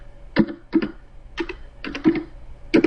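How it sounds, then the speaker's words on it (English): Someone typing on a computer keyboard nearby, giving short clustered bursts of clicking keystrokes with brief pauses between them and no talk. "I'm sorry, I'm typing actually."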